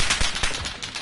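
Rapid BMR gunfire in the Call of Duty Modern Warfare beta, a tight string of sharp close shots in quick rhythm, loud with no talk over it.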